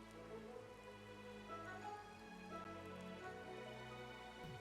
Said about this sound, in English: Alright, and it is raining here now.